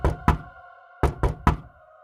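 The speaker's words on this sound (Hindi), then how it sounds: "कोई दरवाजा खटखटाता है।" Knocking on a door on a rainy night in a horror story: two quick knocks, a short pause, then three more, close, sharp and hollow, with no voices.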